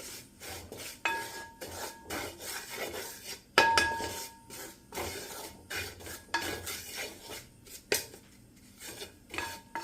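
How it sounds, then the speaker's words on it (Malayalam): Ground black pepper and spices being stirred in a pan over a low flame for a bone and meat curry, heard as rhythmic bursts of close metal scraping and rubbing with a faint sizzle between strokes. "കുരുമുളക് അതിൻ്റെ പൊടി ഇടുകയാണ്. ആയിട്ട് ഇളക്കുക."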